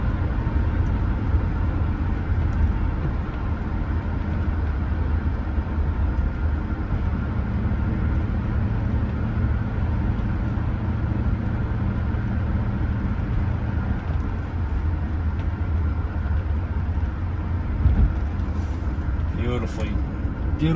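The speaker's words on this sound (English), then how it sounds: "Shifting transmission, right at 60 miles an hour." A 1988 Mercedes-Benz 560SL cruising at 60 mph on a wet, rainy road, giving a steady low engine and road drone with tyre hiss throughout, while someone talks over it.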